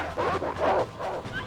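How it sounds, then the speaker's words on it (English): Dog in the Red Dead Redemption video game giving a few yipping, whimpering barks in short bursts, moderately close, with a faint voice in the background. "Damn dog!"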